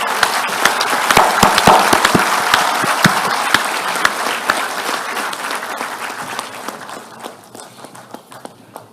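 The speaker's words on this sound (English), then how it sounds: "please a loud applause for your parents who are here today" Loud, sustained audience applause at the Mahindra University graduation ceremony, a dense crowd of clapping that fills the hall and slowly fades away toward the end.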